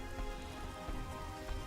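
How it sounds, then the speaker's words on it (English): Steady rainfall in the dark fantasy action game Diablo III, a constant dense hiss of drops on surfaces with no pauses and no voices, short and even throughout. "The lightning, the rain."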